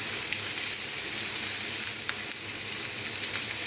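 Pork chops fry in a pan with a close, steady, hissing sizzle and a few faint pops, running without pause and with no one speaking.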